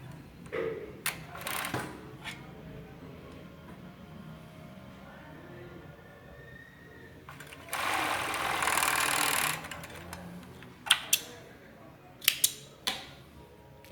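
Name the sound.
sewing machine stitching a girl's panty seam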